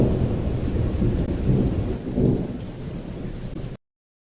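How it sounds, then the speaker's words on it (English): Steady heavy rain hisses throughout with low rolling thunder rumbling underneath, loud and continuous, then cutting off abruptly. "A mighty storm is on its way, slow but certain,"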